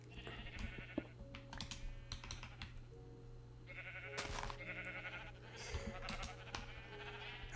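Sheep in Minecraft Bedrock bleat in several short, wavering calls scattered through a quiet scene, alongside soft clicking keyboard sounds and a faint steady hum.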